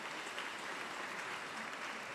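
Clapping for the administrators and staff at a high school graduation ceremony, a faint, distant, continuous wash of crowd applause without distinct individual claps.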